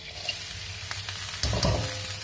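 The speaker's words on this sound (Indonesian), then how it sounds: "saya akan menggoreng terinya dulu ya bun, yang sudah dibersihkan dan kepalanya dibuang ya" Cleaned anchovies (teri) with their heads removed frying in oil, giving a steady close sizzle and crackle with a few brief stirring scrapes, and no talking.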